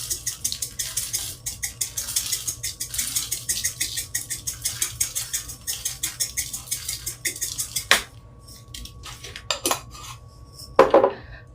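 A spoon stirs fennel seeds around in a pot, giving rapid close clinks and scrapes in a dense rhythm that thins toward the end into a few scattered taps and one louder clatter.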